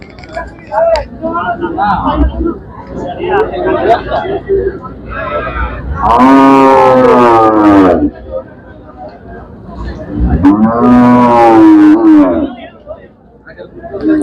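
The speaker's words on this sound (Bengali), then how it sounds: "আমরা আরো কিছু গাভীগুলো দেখাচ্ছি আপনাদেরকে" Friesian cows with calves at the Mirshanni cattle market give two long, loud moos over a background of crowd chatter and people talking nearby.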